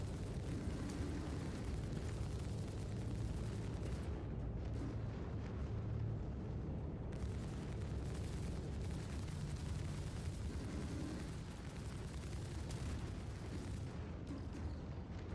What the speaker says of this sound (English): Oh, the Freelancer with no name is shooting.